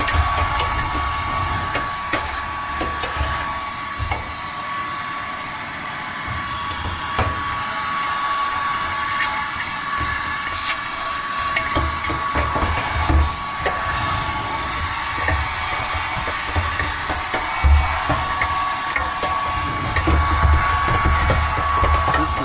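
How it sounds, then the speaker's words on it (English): A steady mechanical whine and rushing airflow runs throughout as a vacuum cleaner sucks up dust while cleaning a clothes dryer's sensor, fairly loud and close. "suck up all the dust. You can use your"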